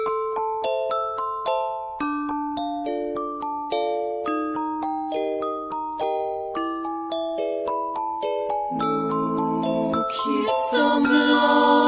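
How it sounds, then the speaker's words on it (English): Bell-like, music-box tones open the song Toi by B-Astre: a bright, plucked melody of clear, decaying notes over a soft low line, joined by fuller instruments near the end. "What sounds like bells or music box starts off the song"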